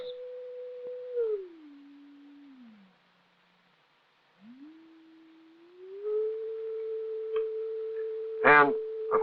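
Steady pure tone from an audio oscillator in a 1961 acoustics demonstration, gliding down in pitch, dropping out briefly, then sweeping back up and holding level, with a few faint clicks and a short burst of other sound near the end.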